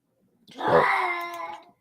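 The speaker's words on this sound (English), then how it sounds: "That is my cat." A house cat lets out one drawn-out, rising-then-falling meow, close and clear against a quiet room.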